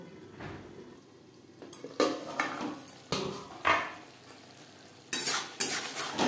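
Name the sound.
pan being covered with a lid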